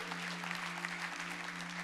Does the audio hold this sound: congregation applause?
yes